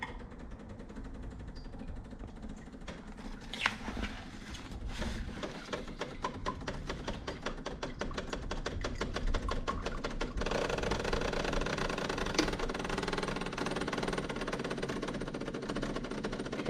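An espresso machine brews a shot into a cup on a scale, its pump giving a steady buzzing, vibrating hum that grows slightly louder and denser partway through and continues without speech.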